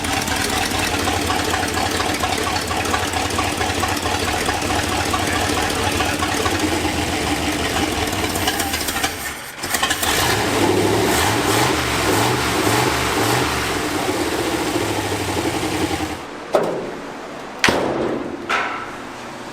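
Ford F100 truck engine, abandoned for nine years and now revived, running steadily and fairly loud with a rough, pulsing rumble that swells into a rev midway before clunking and dropping off near the end.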